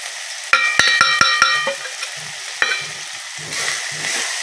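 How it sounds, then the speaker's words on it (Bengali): Ground turmeric, chili and coriander spices sauté with fried tomato and onion in a kadai for rajma masala. Several sharp metallic spatula taps ring out near the start, then a soft sizzle and stirring follow. "ভালো করে কষে নেবো মশলাটা।"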